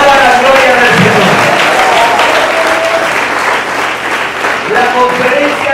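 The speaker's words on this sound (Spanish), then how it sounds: "¿Cuántos le dan un aplauso al Señor?" A church congregation applauding together at a Spanish-language service, loud sustained clapping filling the hall for several seconds with a few voices calling out over it.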